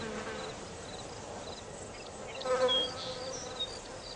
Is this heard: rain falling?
no